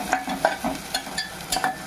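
Chopped onions sizzle in hot oil while a spoon stirs them in short scraping strokes, close and soft, as the base for a mutton curry.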